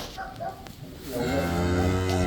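A cow on a farm lows in a long, steady moo that swells in the second half, close and fairly loud, following a quieter stretch of faint background sound.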